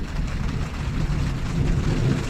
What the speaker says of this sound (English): We have thunder.